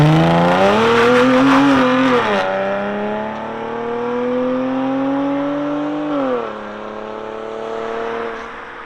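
A 2013 Dodge Charger AWD with a 3.6L V6 and Purple Hornet glass pack mufflers revs loudly up close, its exhaust rising in pitch, dipping, then holding a steady droning idle-to-rev note with a second brief throttle blip near the end.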